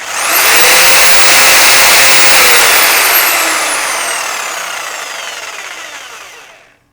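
A repaired Milwaukee electric jigsaw runs steadily at high speed with a loud, continuous whine, then its motor pitch slowly drops and fades out as it winds down near the end.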